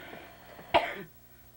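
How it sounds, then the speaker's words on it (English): A single sharp cough bursts out close by after a quiet stretch, then trails off into silence. "I'm going to cough my head off"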